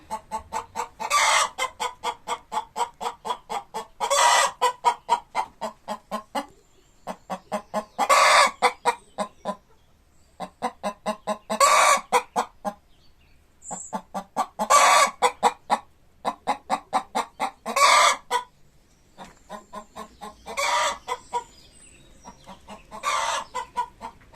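Laying hens on a small farm cluck in repeated rhythmic bursts, with clucking runs rising and falling every few seconds, close and clear with no talking over them.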